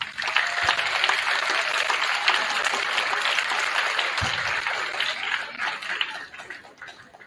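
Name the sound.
applause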